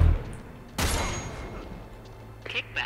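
A single loud gunshot bursts out in the video game Uncharted 3, set in a monastery, followed by fading game ambience and a few faint clicks.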